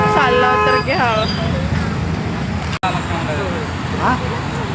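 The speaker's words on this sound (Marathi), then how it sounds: "हे बघा आमची गाडी आली." A Global Travels bus pulls up amid steady roadside traffic noise, with a horn-like tone early on and people talking nearby over the continuous rumble.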